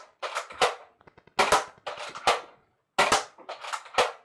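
A Nerf Elite Strongarm blaster fires darts in non-slam mode, a series of sharp, close mechanical pops and clacks in irregular bursts separated by brief pauses and small priming clicks.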